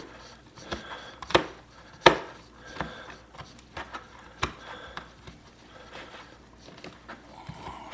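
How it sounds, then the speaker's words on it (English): Knife chopping cooked homemade bacon on a board for a pea salad, a series of sharp close taps at an irregular pace, a few louder strikes standing out over quiet kitchen background. "I'm going to chop up my bacon"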